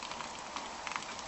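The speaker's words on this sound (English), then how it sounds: "It is raining out" Rain falling outside makes a steady, dense hiss with light patters of drops, heard from a moderate distance at low volume and with no speech.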